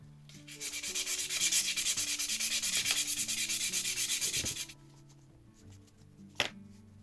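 A Victorinox Traveller knife blade stroked across a 1000 grit whetstone, a close rhythmic rasping of rapid back-and-forth passes for several seconds, then stopping, followed by a quiet pause and a single light tap.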